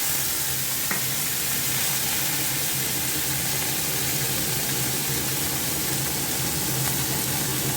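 Spices sizzling steadily in a hot pan as a splash of water hits them, a continuous hiss and crackle throughout with no voices.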